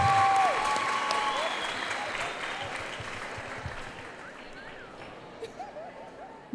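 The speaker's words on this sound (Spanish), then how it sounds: "le damos un caluroso aplauso entonces a la consejería del 12B" A graduation ceremony crowd gives warm applause for a class group, the clapping loud at first and gradually tapering off over several seconds, with a few whistles over it.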